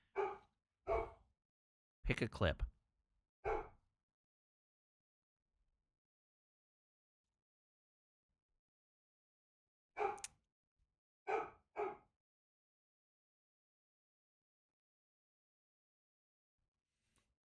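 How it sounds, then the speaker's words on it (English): Dogs bark in short isolated bursts, several quick barks at the start, then a long silence before another cluster of barks, fairly close and sharp. "Dog's barking again."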